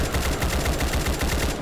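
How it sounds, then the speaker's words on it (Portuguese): Rapid automatic gunfire from a Roblox dinosaur-escape game, a steady stream of loud repeated shots filling the whole moment with no speech over it. "Olha o tiro, olha o tiro."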